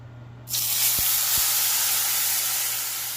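Chili sauce poured into a hot, oiled pan erupts into a sudden loud, hissing sizzle that holds steady and fades only slightly, with a couple of faint knocks near the start.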